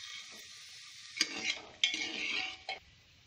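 Fried soybean chunks being stirred in a hot pan for a potato soybean curry, a quiet continuous sizzle broken by a few sharp scrapes and clinks of the spatula against the pan, no speech.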